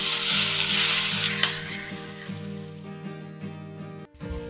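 Spices sizzle in hot oil as a tempering for a Gujarati dry potato dish, a loud close fry that settles into a steady hiss with occasional small pops, then a brief dip near the end.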